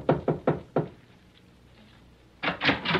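Knocking on a door in a radio drama: four sharp wooden raps in quick succession, a pause, then a second brisk burst of three knocks, close and clear with no talk.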